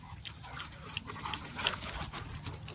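Young puppies pant rapidly and whimper close by in short breathy bursts, with faint scuffling around them.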